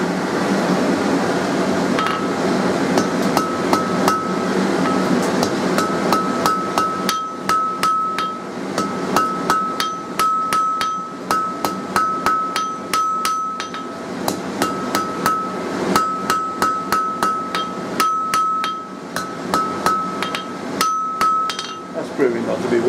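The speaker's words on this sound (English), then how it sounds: "on the heat after that get in with a smaller ball pane hammer" A small ball peen hammer forges a hot iron finial on an anvil, sharp ringing blows coming steadily in quick, rhythmic runs, close and loud.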